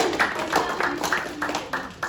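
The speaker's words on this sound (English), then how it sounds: "Now you can clap." Clapping at a team meeting, a handful of separate loud claps in an uneven rhythm, close by and sparse rather than a full crowd ovation.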